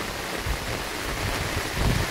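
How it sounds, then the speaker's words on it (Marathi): Heavy monsoon rain pours steadily on a village, a dense, even wash of hiss with no pauses and a slight swell near the end. "मुसळधार असा पाऊस चालू आहे. भरपूर प्रमाणामध्ये पाऊस पडत आहे."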